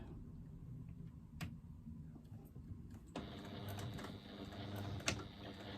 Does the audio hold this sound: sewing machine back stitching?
yes